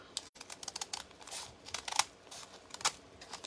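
Scissors snip through a paper bag to trim the top points of a 3D snowflake star, giving a run of quick, crisp, close cuts and crackles with no talk.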